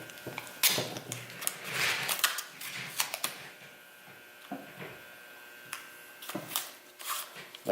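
Masking tape rips off the roll in short, sharp tearing bursts, several irregular strips pulled close by during masking of a VQ35DE throttle body for painting, with quiet pauses between.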